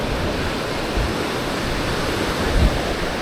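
Waves wash in at the tide line on Praia dos Ingleses in Florianópolis, a steady, close roar of surf with a slightly louder surge near the end and some wind on the microphone.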